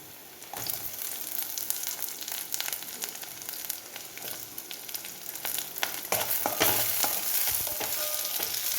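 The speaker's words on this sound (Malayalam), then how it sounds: "ഇനി നമുക്ക് പച്ചമുളക് ഇട്ട് കൊടുക്കാം ഞാൻ പച്ചമുളകാണ് ചേർക്കുന്നത്" Green chilies fry in a hot pan while mustard mango pickle is being made, giving a steady close sizzle with occasional stirring scrapes that grow slightly louder toward the end, with no voices.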